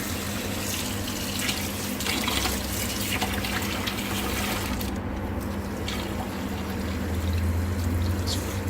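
Kitchen tap water runs into a sink and splashes steadily while fabric is rinsed of acid. The flow is moderately quiet and continuous, with no voices.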